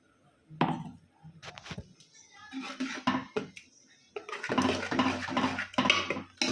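Ground spice paste going into a curry pot and being stirred, with clattering metal spoon scrapes and knocks against the pot in irregular bursts, close and fairly loud.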